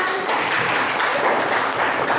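Classroom applause from pupils at the end of a lesson on reducing Aedes mosquitoes, a brief, dense patter of many small hands clapping steadily at close range.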